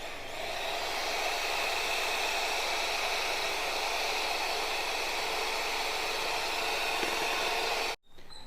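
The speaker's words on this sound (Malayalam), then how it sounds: "ബ്ലെൻഡറാണ് ആ ബീറ്റർ വെച്ചിട്ട് നമ്മൾ ബീറ്റ് ചെയ്തിട്ട് വരട്ടെട്ടോ" Electric beater whipping cake batter with icing sugar, a steady, even motor whir held at constant loudness, cutting off briefly near the end before starting again.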